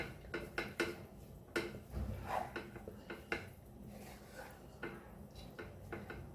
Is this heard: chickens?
no